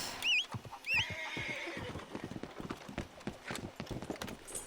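A horse in the video game Red Dead Redemption 2 whinnies twice in quick succession, then its hooves clip-clop steadily in a fast, rhythmic gait, close and moderately loud with no talking.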